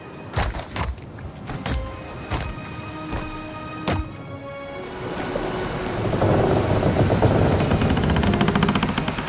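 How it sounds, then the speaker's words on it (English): Thunderstorm at sea in the video game Pillars of Eternity II: several loud, sharp thunder cracks, followed by a steady heavy roar of rain lashing down that builds toward the end. "The storm picks up, lashing your ship and driving you dangerously close to a rocky shore."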